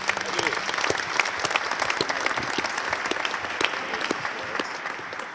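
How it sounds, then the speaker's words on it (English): Scattered applause from a modest crowd at a government advisory committee meeting, individual claps distinct, with some voices murmuring underneath. "So let's have a round of applause for the new leader of the AST, Kelvin Coleman."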